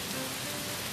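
Children's voices mimic falling rain with a continuous, even, hissing shush that sounds like a steady downpour.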